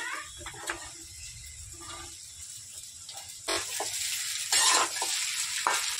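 Sago is stir-fried in a pan with cumin powder and rock salt, producing a soft continuous sizzle broken by scraping stirs and a few louder bursts of frying.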